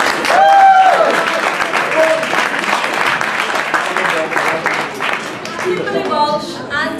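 Applause from an audience at a London newspaper launch event, greeting the magician Dynamo, with a steady wash of clapping that holds for several seconds, mixed with cheers and nearby voices.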